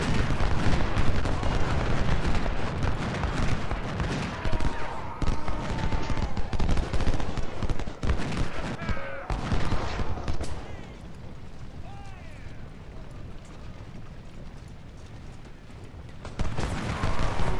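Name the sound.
gunfire in the video game Ultimate General: Civil War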